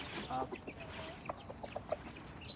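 Several short Thai chicken clucks scattered over a busy farmyard background, fairly close, with faint bird chirps mixed in.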